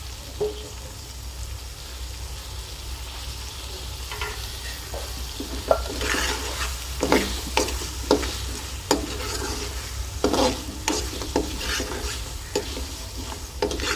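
Beef karahi frying in a wok with ginger and green chilies, a loud continuous sizzle broken by repeated scraping stirs and clanks of the spoon, no talking.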